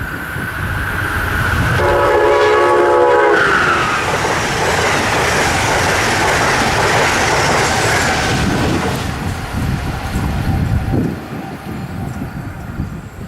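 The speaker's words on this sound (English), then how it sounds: "Amtrak Northeast Regional number 125 from Springfield, Massachusetts races its way south with an ACS 64 on the point" Amtrak Northeast Regional 125 from Springfield, Massachusetts, led by an ACS-64 electric locomotive, sounds a loud horn blast, then roars close past heading south, its rushing clatter fading toward the end.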